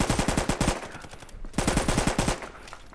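Rapid automatic gunfire from a short gun in the VR shooter Contractors VR, two fast bursts of close, loud shots separated by a brief pause.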